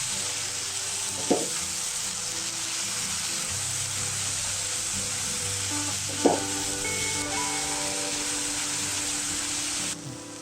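Tomato gravy with a spoonful of sugar sautéing in a pan for paneer mushroom masala, a steady loud sizzle throughout with two brief utensil knocks and light stirring, no voices.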